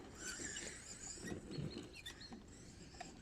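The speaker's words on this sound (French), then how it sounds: "On dirait que le moteur il commence à se roder aussi." Brushed motor of a Corally Triton RC car still running in, giving a continuous, wavering high-pitched whine with scrabbling, pattering noise beneath it for a few seconds, close by and without talk.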